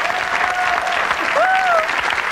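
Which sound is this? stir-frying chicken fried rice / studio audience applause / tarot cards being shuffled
studio audience applause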